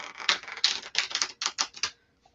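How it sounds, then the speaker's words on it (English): A deck of playing cards being shuffled with the last card worked into the pack, heard as a quick run of crisp riffling snaps in bursts, close and fairly loud, ending with a faint tap. "We're gonna shuffle this last one into the pack."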